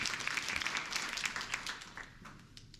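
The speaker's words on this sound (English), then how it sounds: "can we just give a big round of applause for everybody who helped put this event on?" Audience applause for event helpers at a live storytelling night, a quiet, distant-sounding patter of many hands clapping that thins out and fades over a few seconds.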